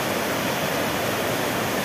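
Stream water rushing steadily through the Guarruz ravine, a dense, continuous broadband roar heard close by with no pauses and no voices.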